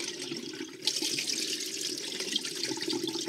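Water running and splashing as rice is washed in a sink to float out bugs, a continuous close gush that swells slightly after the first second, no talk.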